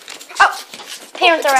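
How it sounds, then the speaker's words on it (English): A puppy gives a sharp bark or yip, with whiny, higher-pitched vocal sounds after it, all mixed in with nearby people talking. "That was just our puppy guys."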